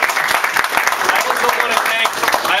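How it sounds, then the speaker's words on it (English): Loud, steady applause from an audience at Congressman Joe Crowley's fund-raiser event, a dense wash of hand claps sustained throughout. "A big round of applause for him."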